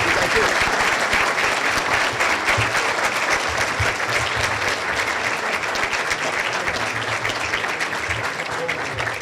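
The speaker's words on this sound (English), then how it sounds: "How about a big round of applause?" An audience gives a big round of applause at a Cook County State's Attorney candidate event, a loud, dense roar of clapping that carries on for several seconds, with voices mingled faintly beneath it.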